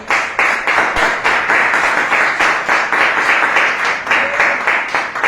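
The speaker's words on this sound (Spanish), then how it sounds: "Un aplauso a Dios, hermanos." A church congregation applauds together in a rhythmic, steady clapping, loud and close, continuing evenly throughout without talking over it.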